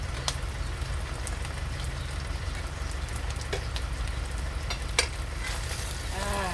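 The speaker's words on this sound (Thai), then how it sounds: "ต่อไปเราก็ จะผัดหมูนะคะใส่ ใส่บวบค่ะหั่นบางนะคะ" Pork and thinly sliced luffa gourd stir-fry in a pan with a steady loud sizzle, with occasional scrapes and clinks of a utensil stirring.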